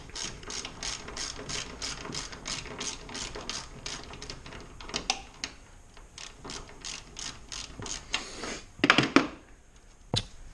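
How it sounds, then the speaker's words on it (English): Ratchet loosening the top nuts on a Honda Civic coilover, a rapid string of close clicking strokes, then slower scattered clicks and a few louder metallic clanks near the end. "I'm just going to loosen up the top nuts here on the coilover."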